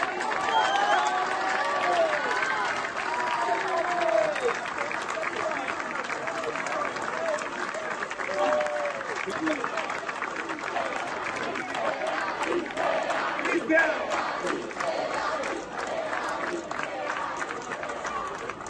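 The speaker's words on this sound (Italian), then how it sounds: "a cui tutti veramente dovete tributare l'applauso più fragoroso" Crowd applause with scattered cheers at an outdoor Genoa football club fan festival in Moena, a steady wash of clapping under faint chatter and calls, fairly distant and continuous.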